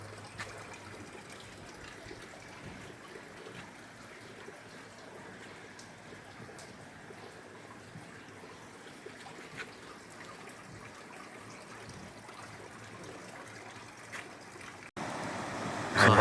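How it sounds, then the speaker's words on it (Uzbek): A mountain river stream swollen with snowmelt near a sanatorium rushes in a soft, even hiss of flowing water, steady and fairly faint throughout, growing briefly louder at the very end. "Daryo anhorining oqishini qarang. Qorlar erib kelyapti."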